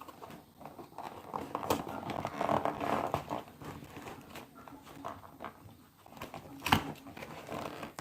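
Packing tape on a cardboard box is torn open by hand without scissors. Close, scratchy ripping and crackling comes in uneven bursts, broken by short pauses and a sharp pop near the end.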